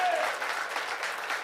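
A church congregation applauds during a Sunday morning worship service, a short burst of dense clapping from many hands in a large room.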